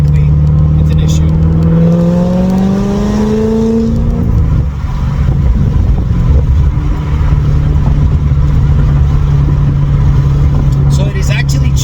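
A Corvette ZR1 engine revs up through second gear with a sustained low exhaust drone and rising harmonics that level off, heard loudly from inside the car.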